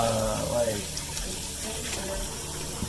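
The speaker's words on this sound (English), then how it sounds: "Just kind of rinsing the garlic now." Kitchen tap water runs steadily over garlic cloves being rinsed, a continuous close splashing gush that fills the whole short stretch.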